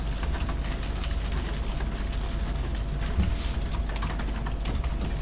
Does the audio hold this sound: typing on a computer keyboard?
yes